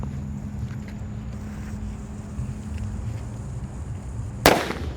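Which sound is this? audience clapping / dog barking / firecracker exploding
firecracker exploding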